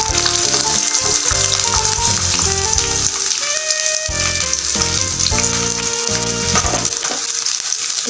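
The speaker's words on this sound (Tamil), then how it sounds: "ரெண்டையும் நல்லா வதக்கிடுவோம் சிம்லே வச்சு வதக்குவோம்" Green chillies and a little onion fry in oil for a village-style soya gravy, giving a loud, steady sizzle that runs throughout with no talking. Tonal music plays over it.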